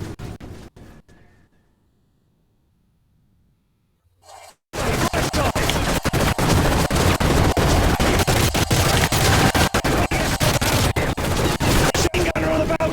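Sustained, dense machine gun fire and overlapping gunshots blast loud and continuous in a Call of Duty Modern Warfare 3 firefight, following a brief near-silent lull.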